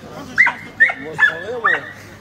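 A dog gives four short, evenly spaced yips with whimpering bark-like cries, close and fairly loud.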